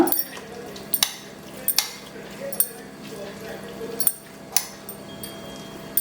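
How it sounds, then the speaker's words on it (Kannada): A spoon mixes curd into a cooled dish in a bowl, with soft wet stirring broken by repeated sharp clinks against the rim roughly every second. A voice speaks faintly underneath. "ಮೊಸರು ಹಾಕೊಂಡು ಚೆನ್ನಾಗಿ ಮಿಕ್ಸ್ ಮಾಡ್ಕೊಳ್ಳೋಣ"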